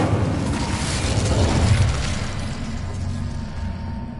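A fiery Incendio spell bursts in Hogwarts Legacy as a loud, dense whooshing roar that swells and then slowly fades, heard alone with no voices.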